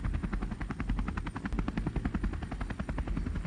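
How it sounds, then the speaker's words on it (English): An Airbus H160M military helicopter's rotor beats in a fast, steady thumping rhythm, moderately distant and continuous throughout, with no voices. "This is the Airbus H-160M helicopter for the French Armed Forces."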